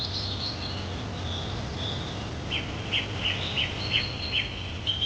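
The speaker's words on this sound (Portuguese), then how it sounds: "os sons dos pássaros nas copas das árvores se dissipam" Birds call from the Amazon rainforest canopy against a steady hiss of forest ambience, with faint, high chirps repeating in a quick rhythmic series, some insect-like trills mixed in.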